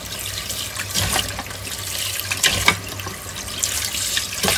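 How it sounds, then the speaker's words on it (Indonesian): Clam meat being washed under a running tap in a kitchen sink, steady splashing water with small surges, close and fairly loud, no voices. "Ini daging kerangnya saya cuci bersih."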